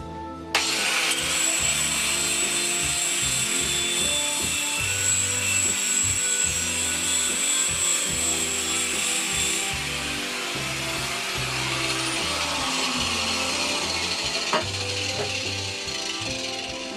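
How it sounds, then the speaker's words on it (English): Angle grinder fitted with a wire brush stripping painted, rusty finish down to grey galvanised metal on an airsoft PPSH41 build, a continuous close abrasive whir and scrubbing rasp with a high whine that drops away partway through. "wire brush, angle grinder."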